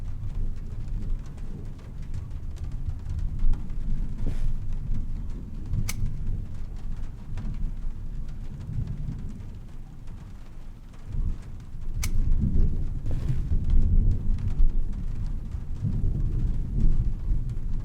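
A thunderstorm rages outside in Trüberbrook, with steady heavy rain and low rumbling thunder throughout, punctuated by a few sharp cracks, no voices.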